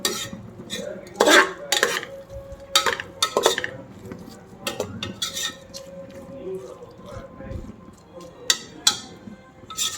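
Slit green chilies and ginger garlic paste sauté in a pan for Chennai mutton biryani. A spoon stirs with intermittent metallic clinks and scrapes over a soft, steady sizzle.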